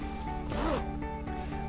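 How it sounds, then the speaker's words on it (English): Double zipper on the front of a concealed carry vest gives a short zipping rasp in the middle, set against a steady background hum with a few faint clicks. "There is a double zipper front that not only zips down,"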